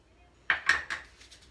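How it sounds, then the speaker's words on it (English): Three quick utensil clinks and scrapes against a bowl while stirring the crumbly mixture for a keto peanut butter cheesecake crust, close and fairly crisp, with no talk. "Now we are going to stir it until it feels like a crust."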